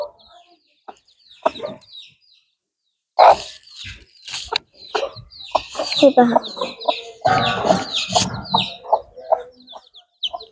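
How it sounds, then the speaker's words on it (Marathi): Hens and small chicks cluck and peep on a poultry farm, in bursts and then more steadily, close by, with someone talking over them. "आमच्या कोंबड्यांनी किती छोटी छोटी क्यूटशी पिल्लं दिली आहेत"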